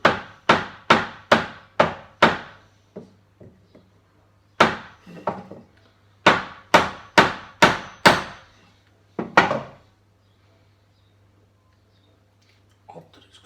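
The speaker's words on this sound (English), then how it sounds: "I'm gonna hit my fucking thumb with a fucking hammer." Hammer striking wood while putting up shelves, in quick bursts of sharp, ringing knocks, five or six blows at a time separated by short pauses, close and loud, with a low steady hum underneath.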